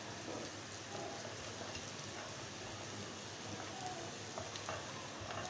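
Capsicum and other ingredients for chicken fried rice sautéing in a pan, a steady soft sizzle and crackle throughout, fairly quiet with no speech.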